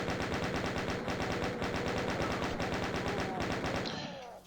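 Chaingunners fire on and on in DOOM's Spectre's Manse level, a rapid, steady, loud stream of machine-gun shots that runs nonstop for about four seconds before it breaks off and fades.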